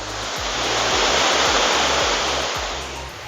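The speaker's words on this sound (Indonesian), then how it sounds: "jadi ini aliran air terjun Binangabolon dari hulunya" Loud, steady rushing of the Binangabolon waterfall in Simalungun, Indonesia, pours continuously, a dense broadband roar with no voices.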